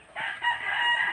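A rooster crows once, close and loud, a single sustained call lasting about a second in a backyard where free-ranging chickens wait to be fed.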